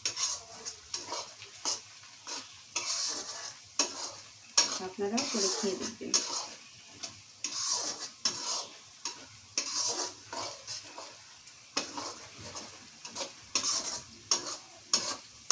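Garlic fries in oil in a pan for a meat curry, with rhythmic spatula stirring and scraping over a soft, steady sizzle. A voice speaks briefly.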